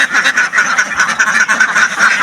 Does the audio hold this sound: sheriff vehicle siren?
no